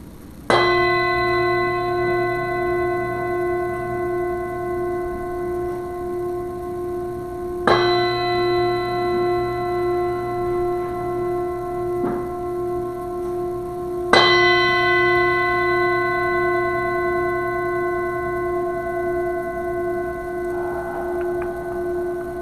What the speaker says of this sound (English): So let's ring this bell 3 times to remind ourselves